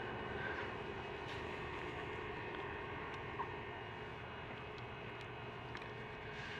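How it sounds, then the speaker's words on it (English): An airplane passes over Griffith Observatory in Los Angeles at sunset, a steady, faint, distant engine drone that holds evenly throughout with no other sounds standing out. "that's an aeroplane that just went past"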